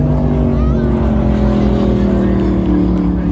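Racing powerboat at the Mildura 100 km powerboat race in 2025, its engine a loud, steady, close roar that fills the whole stretch with a deep droning hum.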